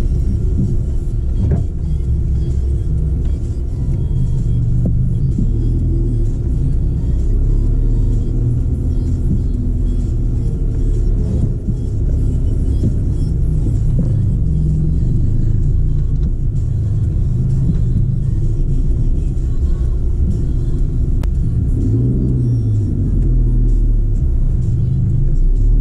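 Toyota RAV4 driving in four-wheel drive mode on undeflated tyres along the South Australian coast, a loud continuous low rumble of engine and road noise with occasional bumps and rattles.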